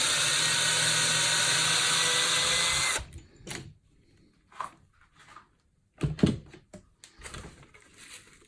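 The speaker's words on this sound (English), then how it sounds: "we're just going to do a pre-drill all these holes up, screw these screws in these holes." An electric drill pre-drills holes for screws that fix the neck on a double-cut kit guitar. It whirs steadily and loudly for about three seconds, then gives way to scattered short bursts and clicks from the workpiece.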